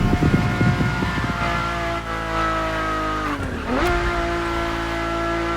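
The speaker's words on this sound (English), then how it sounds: "And the car's voice sounds even better from inside." Ferrari supercar from The Crew Motorfest, heard from inside the cabin: a loud, steady engine roar rich in harmonics, with a sharp rev drop and climb near the end as the car shifts, alone with no talk.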